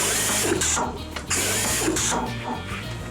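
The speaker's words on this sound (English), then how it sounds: "So stamp the holes in, and then drill the hole" A power drill whirs as it drills ventilation holes in steady bursts with a high whine, close up, broken by brief pauses and faint mechanical rattling.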